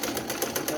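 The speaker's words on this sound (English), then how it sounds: "Then reverse your sewing machine." A sewing machine runs briefly while stitching the neckband of a knitted school sweater, giving a quick, steady run of mechanical needle pulses close up.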